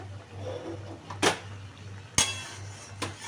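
A pan for Bombay duck (lote fish) chorchori is set on a lit gas stove, making three sharp metallic clanks spaced about a second apart over a low, steady hum, close by and without talk.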